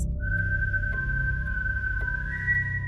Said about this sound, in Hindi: सीटी की आवाज।